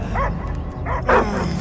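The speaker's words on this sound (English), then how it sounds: "I hear only barking." In the Guardians of the Galaxy video game, a dog gives two quick, fairly loud barks close by, separated by a short pause and set against a low rumbling ambience.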